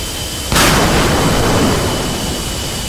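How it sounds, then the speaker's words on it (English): A missile launches in DCS World's Combined Arms, a sudden loud blast followed by a sustained roaring rush of exhaust that holds for over two seconds and slowly fades, with no talk. "Alright, so he just fired a missile."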